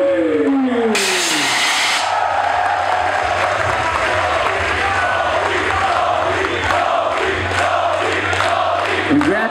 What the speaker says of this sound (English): Give him a big round of applause one more time